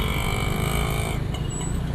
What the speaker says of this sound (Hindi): यह सुबह 7 बजे की ट्रैफिक देख रहे हो